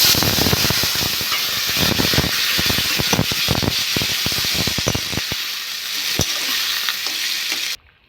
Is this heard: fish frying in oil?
yes